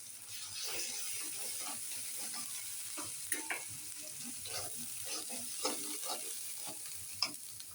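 Fish coated in onion paste sizzles steadily in a hot pan while a spatula scrapes and stirs it, with a few sharp clinks against the metal and no voices.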